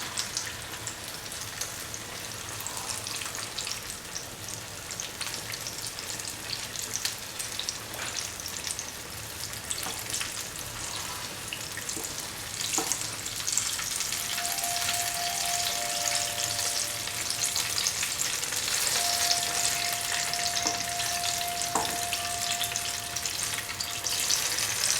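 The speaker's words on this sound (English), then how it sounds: "And fry by turning from side to side." Mango fritters fry in hot oil for a long, steady stretch, the close sizzle and crackle building slightly louder over time, with a few stirring scrapes and a faint high tone partway through.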